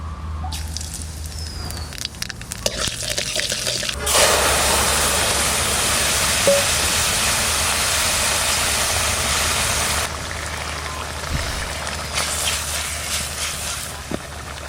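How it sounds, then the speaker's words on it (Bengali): Mustard oil heating in a pan with nigella seeds for a spinach and river fish curry, breaking into a loud, steady sizzle for several seconds before easing to a quieter crackle. "এইবার একটু গরম দেবো সর্ষের তেল"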